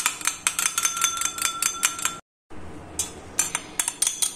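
A spoon clinks rhythmically against a bowl while stirring a mask of aloe vera gel and green tea, steady bright taps close up, broken by a brief silent gap before resuming.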